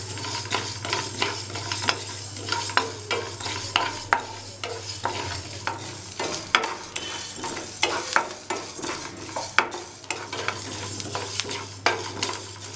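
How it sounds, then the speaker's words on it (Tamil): Coriander, fennel and cumin seeds dry-roast in a pan for a prawn fry masala, a soft steady sizzle broken by frequent scraping stirs and light clinks of the spoon, heard close with no talking. "மல்லி, ஜீரகம், சோம்பு இதெல்லாம் சேர்த்து நல்லா ஃப்ரை பண்ணி எடுத்துக்கலாம்."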